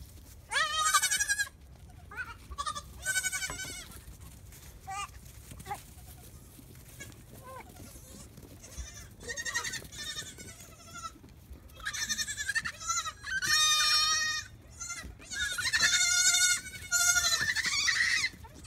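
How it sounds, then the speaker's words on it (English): A bottle-fed baby goat screams in loud, harsh, drawn-out bleats, several bursts separated by short pauses, close to the listener. "You sound like you're being murdered when you scream like that, goat."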